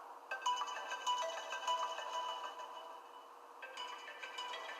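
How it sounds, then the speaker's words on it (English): An iPhone 7 speaker plays a ringtone-like melody after a Sprite freeze test, a steady, somewhat thin electronic tune of repeated tones at moderate loudness with no talking. "There's a different audio projecting out of both of these phones."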